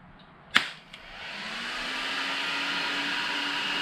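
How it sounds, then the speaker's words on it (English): A Castle regulator in an Arrma Mojave RC car switching on its cooling fans: a sharp click and a smaller tick, then a whirring fan hum rises and settles into a steady close drone, no voices. "That's just the regulator turning on the fans"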